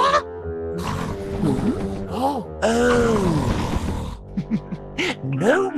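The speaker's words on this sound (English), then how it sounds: "Just Grandpa Pig snoring." A cartoon pig snores loudly in a Peppa Pig episode, rendered as a sequence of long, rumbling, groaning breaths that swell and fade in a slow rhythm, close and prominent with no talk over it.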